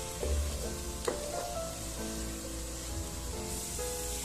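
Onion and spices sizzle steadily in a hot pan for a Christmas mutton stew, a continuous frying hiss with a few soft stirring knocks, close and moderately loud, with no talking.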